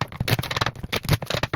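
Tarot cards being shuffled by hand, a quick run of papery riffling and soft flicking taps, close and fairly quiet, with no voices.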